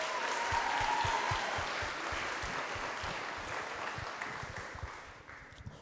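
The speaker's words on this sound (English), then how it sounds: "Can we get another round of applause for her?" Audience applause at a business summit closing ceremony, a steady wash of many hands clapping that fills the clip and tapers slightly toward the end, with no talking over it.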